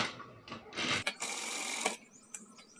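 A sewing machine stitches a two-inch fabric strip onto cloth for a sleeve, with short whirring bursts and then a longer steady run of close mechanical rattle that stops abruptly.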